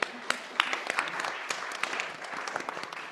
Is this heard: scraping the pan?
no